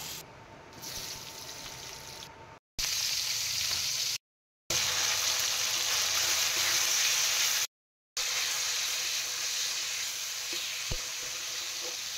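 Potatoes fry in a pan of hot oil, a steady loud sizzle close by, broken by a few brief silent gaps.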